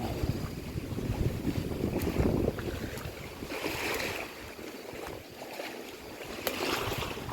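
Steady, gusty wind roars and buffets the microphone outdoors during early-morning rain while fishing, with a rushing low rumble and faint water-like wash throughout.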